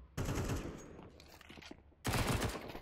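MP9 submachine gun fire in Counter-Strike during a competitive ESL Challenger League match, two loud rapid bursts of automatic shots separated by a quieter pause.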